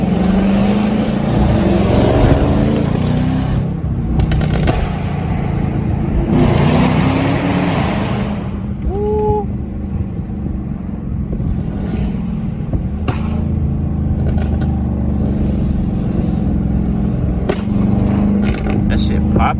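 A tuned RT car in sport mode drives through late-night city traffic, its engine droning steadily with a few sharp exhaust pops cracking through, while people talk loudly over it inside the cabin.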